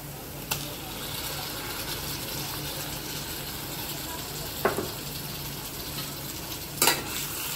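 Prawns and onion frying in a pan give a steady, close sizzle throughout, with a few sharp clicks and taps from utensils breaking through it.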